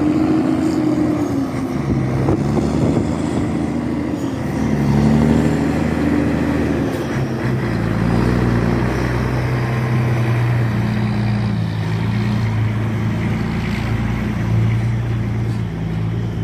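An Iveco truck's diesel engine pulls away under acceleration, a loud, steady low drone whose pitch climbs and then drops with a gear change partway through, heard close and alone.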